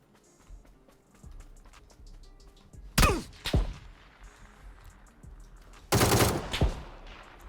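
Gunfire in the battle-royale game PUBG: two bursts of sharp shots, one around the middle and a louder, denser volley near the end, over low in-game background noise.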